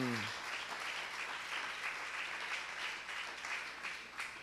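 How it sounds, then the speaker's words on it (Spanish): Sustained applause from a congregation at a religious study gathering, an even, enthusiastic wash of many hands clapping at steady loudness, with a brief voice fragment at the very start. "muchas gracias por sus aplausos"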